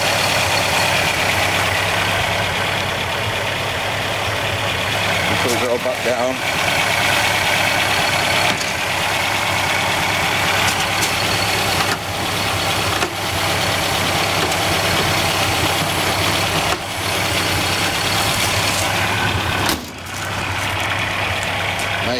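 A Jowett Javelin's 1500cc flat-four engine idles with a steady, even low drone throughout, broken by a few brief knocks and handling sounds, while a voice speaks briefly nearby.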